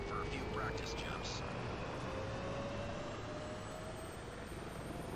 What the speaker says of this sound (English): Board the Chinook in front of you, and we'll take you up for a few practice jumps.